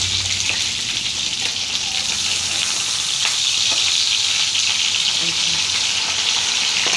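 Cauliflower paturi wrapped in leaves fries in a pan, giving a steady, close sizzle of hot oil that holds evenly through the whole stretch with no talk over it.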